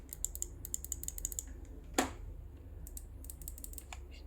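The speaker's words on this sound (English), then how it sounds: "It feels like a clicking mouse. This is my mouse." A clicky controller button on a G9 controller for a Legion Y700 tablet snaps out quick bursts of sharp, mouse-like clicks, close and fairly quiet, with one louder knock midway and pauses between bursts.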